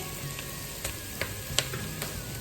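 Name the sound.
seared goat trotters added to frying pot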